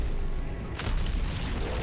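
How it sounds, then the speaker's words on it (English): Bombs exploding in the video game Nitro Gen Omega, a continuous loud roar of blasts with a sharper burst near the middle, dense low rumble throughout. "Oh, and the bombs exploded anyway."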